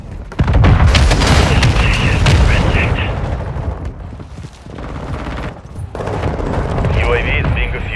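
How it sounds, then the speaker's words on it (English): A mortar strike in a shooter game sets off heavy booming explosions that roll into a sustained rumbling barrage, loud and close, with game voice callouts heard over the blasts. "Mortar strike on the way."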